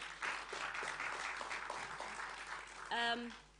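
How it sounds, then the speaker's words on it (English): Applause for a vice-chancellor at a memorial lecture, a steady spread of clapping from the audience lasting a few seconds, moderately faint, before a brief tonal sound cuts in near the end. "let's give our Vice-chancellor another round of applause."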